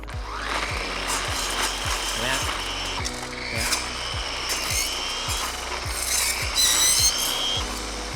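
A Makita UX01GZ 40V cordless multi-function powerhead with a blade attachment cuts branches, its loud, steady motor whine overlaid by regular clicking pulses and rising grinding whirrs as the blade bites into wood; no talking.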